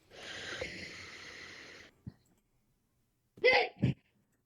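A breathy, hissing sneeze-like burst lasting almost two seconds, then a short click and, after a pause, two sharp snort-like bursts, all close and fairly quiet.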